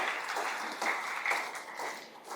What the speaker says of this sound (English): she definitely needs a big round of applause from all of us